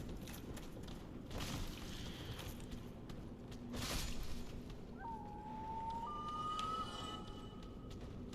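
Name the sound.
Toad whistling in a video game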